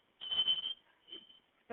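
A fire alarm sounds in a home during a frantic emergency call, giving one steady, fairly loud high-pitched tone for about half a second. Fainter bursts follow, with a brief sharp sound at the end.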